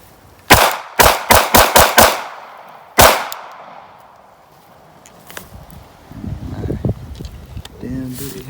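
Rapid gunshots from a Glock 45 pistol: five sharp, loud reports in quick succession, then a single louder shot a second later, with outdoor echo trailing off before people start talking.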